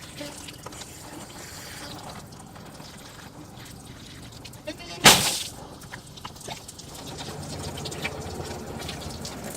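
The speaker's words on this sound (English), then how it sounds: "Okay, so I got water leaking everywhere" Water leaking and splashing from a Jeep Cherokee XJ radiator under test, a low continuous trickle with one sudden loud gush midway, then a steadier spattering flow.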